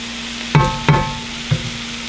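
Chanterelle mushroom pieces fry in a cast iron pan at a campsite, giving a steady low sizzle broken by three sharp scraping clanks of a utensil, close and clear, with no talking.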